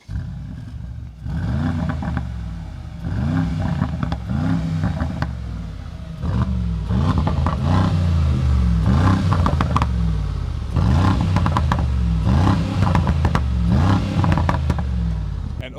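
A 2023 Mercedes-AMG G-Class Brabus engine revs repeatedly through a Brabus aftermarket exhaust, each blip rising and falling in a rhythmic series of deep, crackling roars, close by.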